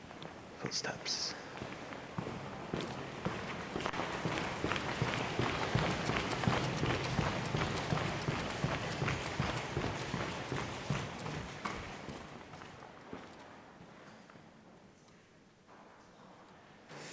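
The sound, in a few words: water dripping onto metal, sounding like footsteps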